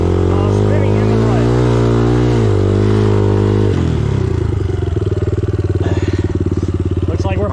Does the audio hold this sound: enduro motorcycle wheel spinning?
yes